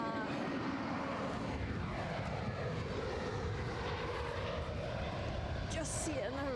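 Qatar Airways airplane at Edinburgh Airport, a broad steady engine roar with sweeping tones as it passes, people talking over it.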